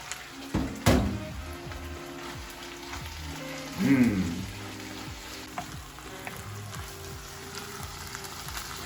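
Beef with carrots, mushrooms and onions frying in a pan for bibimbap, a steady close sizzle with a few louder stirring clatters and a swell of hissing midway.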